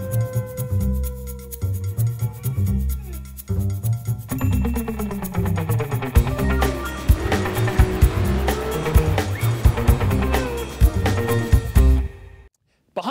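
Nissan GT-R driven hard, engine revving through gear changes with long squealing tires and skidding, loud and close for about twelve seconds before cutting to near silence.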